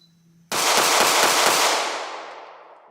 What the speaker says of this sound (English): Let's see if I can pick up the pace shooting quickly with this gun.